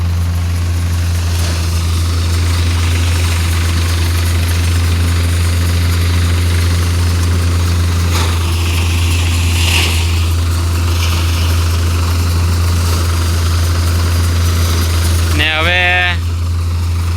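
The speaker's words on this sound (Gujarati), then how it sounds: "આપણે 1100 આરપીએમ ના આજુબાજુમાં ટ્રેક્ટર ચલાવી છે ઠેસરમાં।" A Swraj 744 FE tractor drives a Shri Balaji thresher at about 1100 rpm during pea threshing, a loud, steady low engine drone with a constant machine rumble, and a brief higher rising whine near the end.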